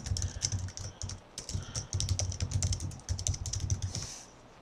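Quick bursts of typing on a computer keyboard to log in, close and fairly soft, with irregular runs of key clicks broken by short pauses.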